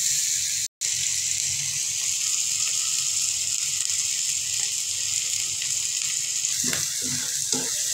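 Onion frying in a pan for begun vaji with prawns, a steady close sizzle throughout, joined near the end by a few scraping strokes as it is stirred.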